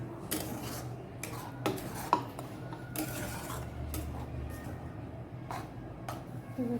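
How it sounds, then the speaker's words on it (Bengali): Yogurt and cashews being stirred into a Bengali fish curry in a pan, a continuous rubbing, scraping spoon with occasional sharper clinks against the metal over a steady low background. "দইটা দেওয়ার সময় কিন্তু ভালোভাবে নাড়তে হবে।"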